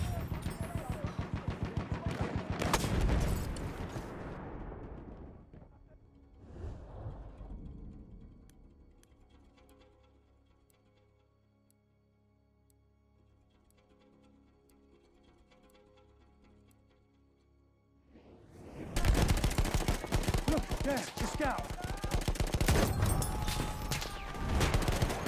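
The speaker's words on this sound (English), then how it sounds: "Enemy soldier sighted. Machine gun over there." Machine gun fire in Battlefield 1, loud bursts of rapid gunfire opening and closing the stretch with a quieter lull of distant battle noise between them.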